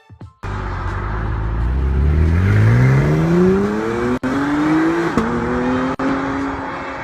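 The 3.5-liter V6 hybrid engine of an Acura NSX sports car revs hard and close, its pitch climbing steadily through the gears. There are two brief cuts in the sound, and no voices.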